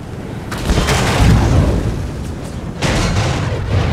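Massed musket and cannon fire in a Napoleon: Total War battle between Britain and France, a steady rolling roar of booming volleys and bursts, loud and thick, with a fresh surge of fire near the end and no talking.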